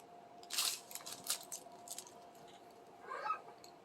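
A parrot imitates a zipper, producing short raspy zipping bursts, fairly quiet and close, followed by a brief chirp.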